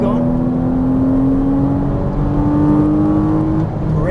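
A Porsche Cayman S on a race track pulls hard under throttle, its engine note climbing steadily and loud from inside the car while a driving instructor talks over it.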